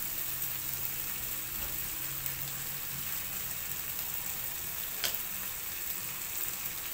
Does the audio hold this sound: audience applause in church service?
no